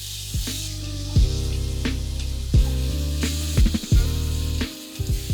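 Steak sears in a pan with a steady sizzle, broken by several sharp knocks and scrapes as the pan or meat is moved, close and loud with no talk.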